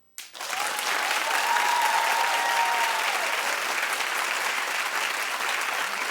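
A television talk show studio audience breaks into applause. It starts abruptly and then holds as a dense, steady wash of clapping for several seconds.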